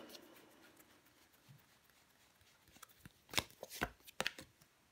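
Tarot cards are laid down and covered on a table, making a few quick, soft slaps and riffling flicks near the end after a quiet stretch, close and faint, with no talking.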